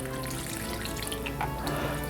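A steady stream of liquid pours and trickles through a kitchen sieve, a continuous wet splashing with no pauses, close and moderately loud.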